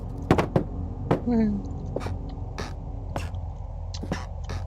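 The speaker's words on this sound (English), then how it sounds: "Door." A muffled door thud in the horror game Penumbra Overture, heard as a few dull knocks and bumps amid faint scraping and low room noise, with a brief creak.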